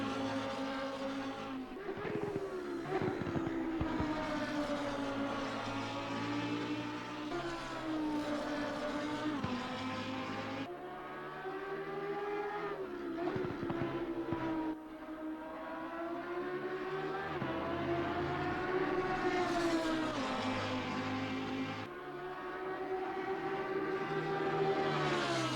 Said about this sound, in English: Love the sound of that Huracan.